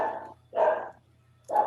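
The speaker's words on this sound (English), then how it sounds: "Whose dog is barking?" A dog barks three times in a steady pattern, each bark clear and fairly close, against a quiet indoor background with a low hum during an online class.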